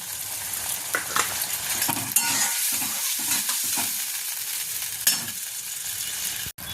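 Water poured into a hot pan of fried rohu fish sets off a loud, steady sizzle with a few brief spatters and stirring scrapes, continuous and close, with no talking.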